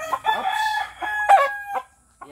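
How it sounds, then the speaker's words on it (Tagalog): A white rooster crows nearby, one hoarse drawn-out cock-a-doodle-doo with a broken, uneven tail, loud and alone. "Ipakita ko tong manok."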